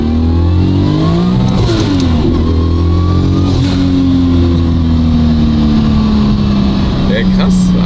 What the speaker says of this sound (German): das ist jetzt der erste Gang Vollgas